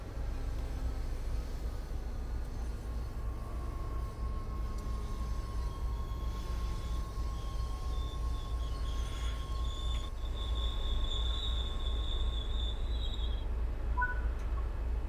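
A diesel commuter train in a video game rumbles steadily with a low, continuous engine drone, and faint high squeals from the wheels rise and fade over it.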